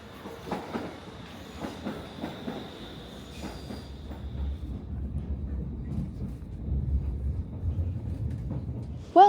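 A Stockholm Metro C30 train rumbles steadily along the track with rhythmic rail clatter and a thin squeal early on, heard from on board with no talking.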